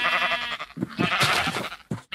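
Sheep in the Minecraft modpack SevTech Ages bleat several times in quick succession, close and fairly loud, with a few short separate calls.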